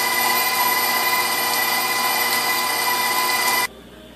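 A KitchenAid stand mixer with a grinder attachment grinding venison gives off a loud, steady motor whine and hum that runs unbroken before cutting off abruptly near the end.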